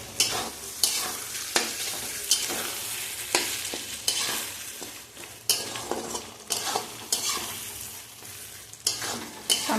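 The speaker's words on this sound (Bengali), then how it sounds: "দিয়ে দিয়েছি আমি নুন, হলুদ আর একটু শুকনো লঙ্কা গুঁড়ো দিয়ে ভালো করে মশলাটা কষিয়ে নেব।" Salt, turmeric, chili powder and tomato fried together in a pan, a close crackling sizzle broken by regular sharp stirring scrapes, with no talk.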